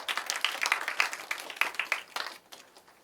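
Applause welcomes a student debater at a youth intergenerational debate held at a girls' high school, a brief burst of many hands clapping that thins out and fades near the end.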